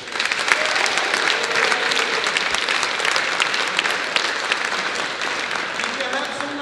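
An audience at a live comedy and music fest claps for the sound crew. The full, continuous clapping lasts several seconds, with scattered cheers and voices in the crowd.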